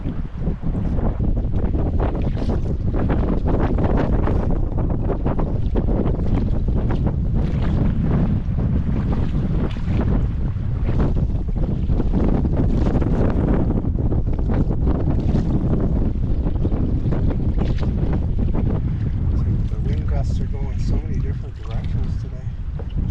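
Strong wind on a backcountry trail in Algonquin during spring, a constant loud roar and buffeting against the microphone that lasts the whole clip, with a person talking at moments.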